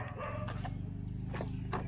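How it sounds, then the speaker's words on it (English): Dogs bark somewhere in the background at a house in Thailand, a few faint, brief yaps scattered over a low, steady hum. "excuse the dogs barking in the background"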